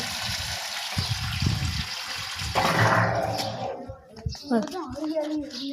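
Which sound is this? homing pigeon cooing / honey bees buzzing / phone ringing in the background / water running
water running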